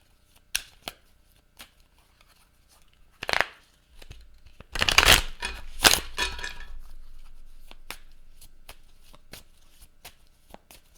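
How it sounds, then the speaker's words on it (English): Brisk tarot card shuffling: scattered riffles and slaps, then a dense burst of shuffling around the middle, with softer rustling afterward. Close and fairly loud, no voices. "shuffle, shuffle, shuffle, shuffle"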